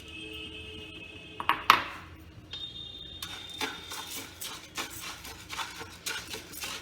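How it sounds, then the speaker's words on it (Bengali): Biulir dal (urad lentils) dry-roast in a pan: a couple of sharp metal clinks, then a run of light, repeated scraping and rattling stirring strokes, quiet and close, with no speech. "তাহলে প্রথমে এই বিউলির ডালটাকে আমি ভেজে নেব।"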